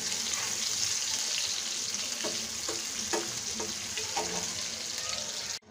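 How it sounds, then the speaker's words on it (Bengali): Minced garlic fries in hot oil in a pan until browned for a Bengali masoor dal, a steady, bright sizzle that runs throughout with a few soft stirring scrapes and no voices. "টেবিল চামচের মতো রসুন কুচি দিয়ে আমি একটু ভালো করে এটা ভেজে নেব অনেকটা বেরেস্তার মতো করে"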